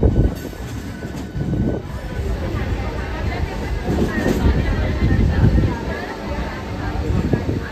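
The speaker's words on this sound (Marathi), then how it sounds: "धावत धावत पकडली आहे कर्जत ट्रेन." A Karjat-bound local train rolls along the line from Khopoli, with a loud continuous rumble, clattering wheels and occasional squeals, heard from inside a carriage.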